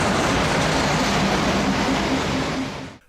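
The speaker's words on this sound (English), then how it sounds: "Here comes the afternoon train." Steam train on the Gulbene-Aluksne Railway rolling past close by, a loud continuous rumble and clatter of wheels that holds steady, then drops off suddenly at the end.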